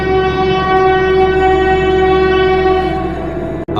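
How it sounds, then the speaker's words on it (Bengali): A train horn blares loud and close in one long sustained blast over a rumbling engine, holding steady before cutting off abruptly near the end, presented as a sound effect. "হঠাৎ দূর থেকে ট্রেনের শব্দ।"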